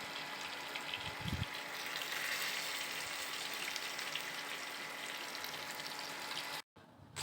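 Soaked soybean chunks fry with potatoes in a pan, a continuous broad sizzle with a brief low thump near the start and a sudden cut to silence near the end.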